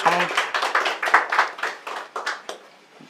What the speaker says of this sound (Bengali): সবাই একটু তালি দিয়ে ওনাকে